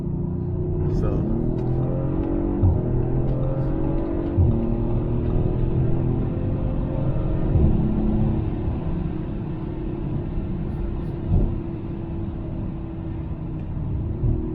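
A 2019 Audi RS5 engine pulls hard under acceleration, a deep sustained rumble with rising and falling harmonic sweeps through gear changes, heard from the cabin with someone speaking over it.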